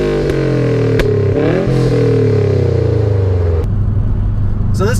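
A loud turbocharged Subaru Legacy Spec.B boxer engine hums and revs steadily up close, its pitch sliding as it accelerates, then drops to a rumbling idle.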